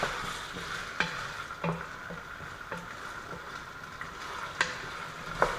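Garlic fries in a pan with a steady, soft sizzle, and occasional clicks of stirring come through at a moderate level.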